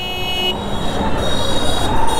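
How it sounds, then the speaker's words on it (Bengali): Vehicle horns blare on a busy street, one sustained tonal honk followed by overlapping horn blasts amid loud traffic rumble. "হর্ন মেরেই চলেছে ভাই।"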